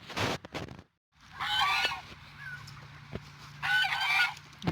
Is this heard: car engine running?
no